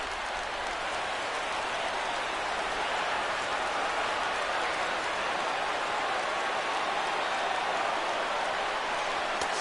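A baseball video game crowd, MLB The Show 16, gives a steady, dense roar of cheering and applause that rises as fans get to their feet during an Opening Day Yankees vs Astros game.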